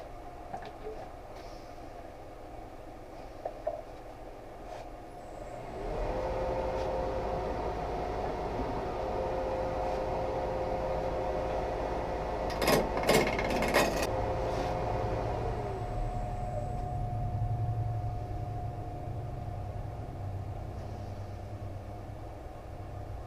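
A wood lathe spins a segmented bowl blank, a low steady motor hum with a whining tone and a burst of sharp scraping cuts in the middle, then it settles back; no talking.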